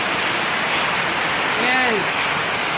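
Dense, heavy rain hisses and pours continuously, a loud typhoon downpour, with a brief voice rising faintly beneath it.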